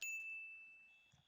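A doorbell chime rings in a Roblox game, a single bright ding that sustains and fades over about a second, with a faint second tone near the end.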